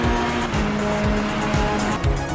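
Ferrari 488 GT3 race car in Assetto Corsa Competizione, its engine droning loud and steady with repeated sweeping shifts in pitch about every half second, tires squealing faintly beneath, no talk.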